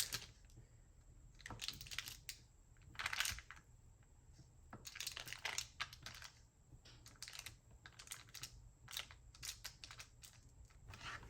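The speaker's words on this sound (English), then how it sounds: "So I'm gonna cut that into little pieces." A knife chops soft, gooey low-fat cheese into small pieces on a board for jalapeño and cheese poppers, with bursts of quick, light tapping strokes that stay fairly faint and close.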